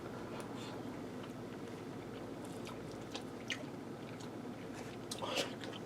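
Soft, close biting and chewing on a roast beef sandwich with gravy on crusty sourdough bread, faint moist crunches and squishes repeating over a low steady background hum, growing a bit louder near the end.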